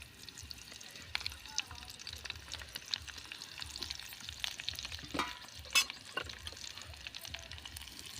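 Spice-marinated bitter gourd pieces fry in oil with a close, crackling sizzle and repeated scraping stirs throughout, fairly quiet overall with no voices.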